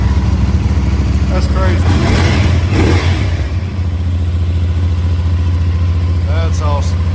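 A CFMOTO 800NK or 450NK motorcycle engine fires up after fueling and revs, then settles into a steady idle, with people talking over it.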